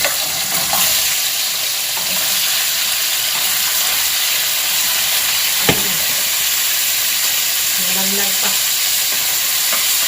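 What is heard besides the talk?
chicken feet and gizzards frying in oil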